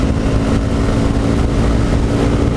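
A 2015 Honda CBR 300R accelerating through the gears on a first ride, its engine a loud, steady close drone mixed with strong wind rush.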